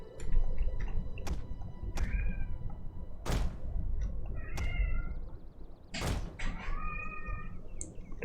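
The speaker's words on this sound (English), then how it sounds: "The cats are not happy that they are locked behind the door." Cats shut behind a door meow repeatedly in a game session, their plaintive calls falling between sharp thuds and clicks spread through the clip.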